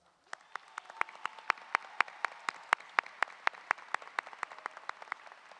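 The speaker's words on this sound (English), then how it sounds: "Let's give them a round of applause." Applause at a health sciences pinning ceremony as the adjunct faculty in the front row stand: a sparse, steady run of separate sharp claps, fairly clear and moderately loud, over a faint room hush, with no one speaking.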